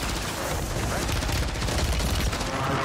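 Rapid, continuous gunfire in the Warzone 3 shooter game, a dense stream of close shots filling the whole moment with little pause, loud and busy.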